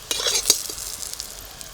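Eggplant fries gently in oil over low heat, a quiet sizzle broken by a few close scraping and stirring taps in the first half.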